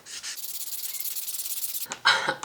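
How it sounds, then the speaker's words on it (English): Sandpaper rubbed rapidly back and forth over an old Rapala fishing lure to strip its paint, a close rhythmic scratchy rasp that briefly pauses and resumes harder. "we're just gonna take some sandpaper. We're gonna go to town."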